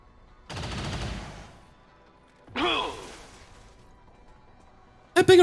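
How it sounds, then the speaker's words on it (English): Gunfire bursts in the game XCOM 2, two rattling volleys about two seconds apart with a sharper crack at the end, fairly distant and moderate in level, with no talking over them. "Wild shot from Rosa."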